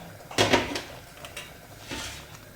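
A lid set onto a pot of mutton for biryani, giving a sharp metallic clank followed by a smaller knock and a faint later scrape, close by with no talk.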